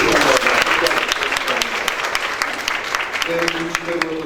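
A room full of people clapping to welcome neighbourhood heads at a library opening in Sultanbeyli, dense applause that thins into scattered claps as a voice begins speaking over it.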